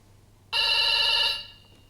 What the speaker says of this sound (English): Those phones are still ringing.